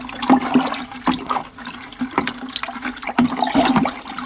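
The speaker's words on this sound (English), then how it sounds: "So I'm now going to stir this in." Yeast being stirred into liquid for homemade pineapple vinegar, heard up close as repeated watery sloshing swirls with a few sharp clinks against the container and no talking.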